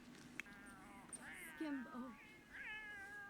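A cat in The Sims 4 meows several times, short rising calls close by, with game sounds and quiet talk around it.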